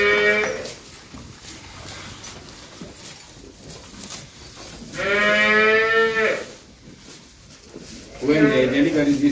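Dairy cows in a barn low and moo in long drawn-out calls, two clear bellows rising over steady background noise and nearby people talking.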